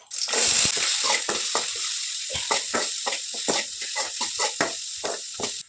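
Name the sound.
green chillies and chopped onion sizzling in tempering oil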